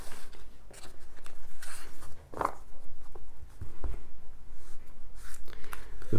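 A tarot card deck is shuffled by hand up close, giving a quick rhythmic run of soft papery flicks and taps, with one brief pause partway through.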